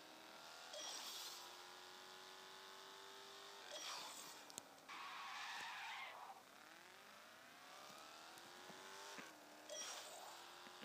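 Engine whine and repeated tire screeches from a car skidding through corners in the game Gangster Vegas, with rising and falling revs and several squealing slides over a steady motor drone.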